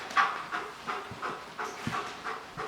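A dog pants close by in quick, regular breathy bursts, about three per second, steady and moderately loud with no one talking.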